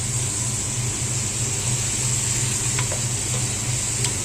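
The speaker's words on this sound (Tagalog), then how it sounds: "naginisa na ako ng kalabasa." Squash sautéing in a pan gives a steady, loud, close sizzle with a constant hiss throughout and faint scrapes of stirring, and no one speaks.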